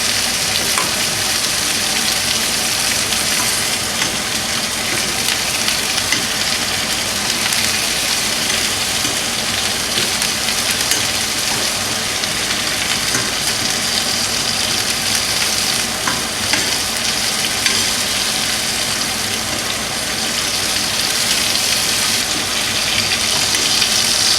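A prime ribeye cap steak, cooked sous vide, sizzles steadily in a hot pan while it is basted with thyme and rosemary. The loud frying hiss runs continuously and close-up, with no talking.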